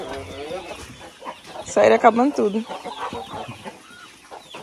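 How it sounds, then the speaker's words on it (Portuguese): Chickens on a small farm cluck nearby, with a rooster among the hens being let out, rising into a louder burst of clucking midway while a person talks over them. "a galinha vai sair, amor"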